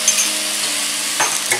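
Veg fried rice with a spoonful of vinegar being stirred in a hot pan: a bright, close sizzle with a couple of quick scraping strokes of the spatula near the end, no talking.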